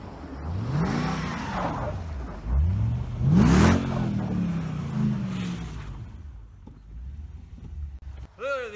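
Mercedes CLK55 AMG engine revving as the car turns around, several rising and falling rev swells, loud and close, with a sharp squeal near the end.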